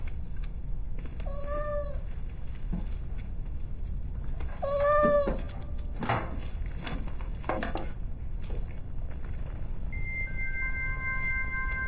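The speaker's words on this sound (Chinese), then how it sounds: "你这个可怜的喵星人怎么也在这里了？" A cat meows twice in clear, drawn-out cries, the second a bit louder, followed by softer mews and clinks in a quiet enclosed space.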